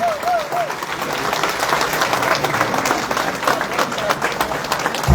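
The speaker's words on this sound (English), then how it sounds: "One more round of applause, please, for the President." A convention audience applauds the President, steady dense clapping filling the room throughout, with a brief voice at the start.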